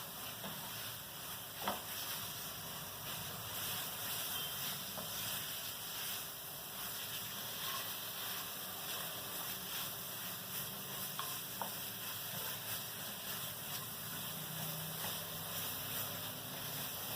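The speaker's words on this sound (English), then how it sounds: "we will fry the masalas" Onion and coconut masala fries in a pan with a steady, close sizzle and hiss throughout, broken by occasional small stirring clicks.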